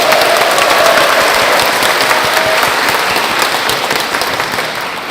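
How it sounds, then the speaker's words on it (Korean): An assembly at an outdoor Catholic protest mass in Jeonju gives loud, sustained applause to welcome a priest, dense clapping that tapers gently toward the end. "큰 박수로 맞이해 주시기 바랍니다."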